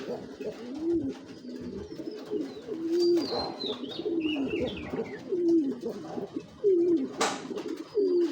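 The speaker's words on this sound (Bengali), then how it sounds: "পাল্লা লাইনের কবুতর।" Giribaz high-flyer pigeons of the Palla line coo repeatedly up close in low, throaty rolling calls, with faint chirps from other birds in the background.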